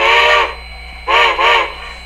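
A model train's SoundTraxx steam whistle sound effect blows three times, one long blast then two shorter ones close together, with a faint electric hum underneath.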